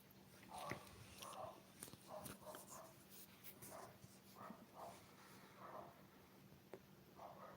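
Dogs bark on a rural homestead, several faint, distant barks recurring irregularly over a steady low background hum.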